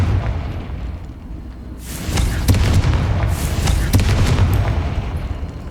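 A Confringo blasting spell in Hogwarts Legacy fires with a sudden loud burst, followed by a sustained rumbling explosion with crackling impacts, rising out of a quieter game ambience.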